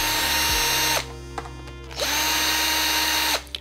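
A power drill whirs in two short bursts close up as it backs screws out of an RC car's front bumper, with a brief pause between runs.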